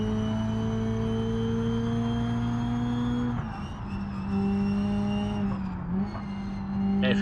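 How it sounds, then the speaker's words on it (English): A car engine in BeamNG.drive roars close up with whining straight-cut gears and turbo, steady at first, then shifting and dipping before revving up again. "now we have the sound of the transmission, the straight cut gears, we have the sound of the motor a lot better"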